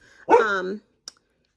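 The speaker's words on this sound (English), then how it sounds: "Sorry for the dog." A dog gives one short, close bark, followed by a faint click and then silence.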